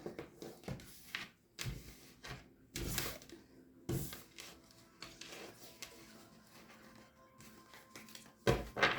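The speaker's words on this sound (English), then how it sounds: "Get you some good shuffles in." Tarot cards shuffled by hand for a reading, giving a run of brisk papery riffles and soft slaps, close and moderately loud, in irregular bursts with short pauses between them.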